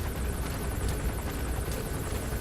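Helicopter from the video game Metal Gear Solid V: The Phantom Pain, a steady droning rotor roar with constant low thrumming that fills the whole moment at an even, moderate level, no voices.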